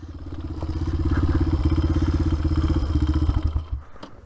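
A cheap $500 dirt bike rides trails, its small engine buzzing loud and close with steady pulsing and some clattering, easing off near the end.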